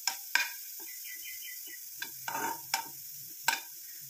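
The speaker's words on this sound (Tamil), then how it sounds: "லைட்டாக இந்த கேரட்டை வந்து ஃப்ரை பண்ணிக்கலாம்" Grated carrot lightly frying in a pan over a low flame, giving a soft sizzle broken by a few sharp scrapes and taps of a spoon stirring against the pan, close by with no talking.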